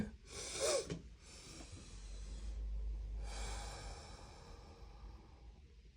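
A person yawns once near the start, a drawn-out breathy sound close to the listener, followed by quieter breathing and a second soft exhale in a quiet room.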